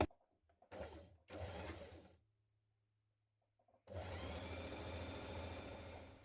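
A sewing machine runs in short bursts while stitching the underarm seam of a Burda 6265 dress, three quick runs with a pause and a low motor hum between, then a longer sustained stretch of stitching.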